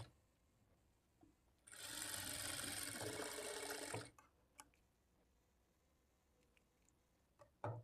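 A sewing machine runs steadily for about two seconds while stitching blouse sleeves together, near and clear, followed by a few small clicks and handling taps in a quiet room.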